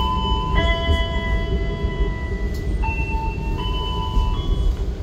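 Gunung Jati passenger train standing at Pemalang station, with a steady loud rumble of the train and sustained tonal whines and beeps layered over it.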